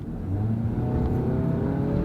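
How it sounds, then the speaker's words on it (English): A Ford Transit van's engine pulls hard under acceleration, a steady, straining drone that holds loud and close for about two seconds with no voices. "You can hear the engine straining"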